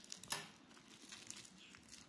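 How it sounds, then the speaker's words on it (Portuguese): Scissors cut a satin label, giving a faint, quiet snip and crinkle near the start followed by soft papery rustling, with no voices. "eu vou cortar esse aqui com a tesoura também"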